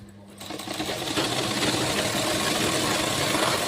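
A sewing machine stitches a folded fabric drawstring strip on a petticoat, a fast steady whirring run that starts softly and quickly rises to a constant loud rattle.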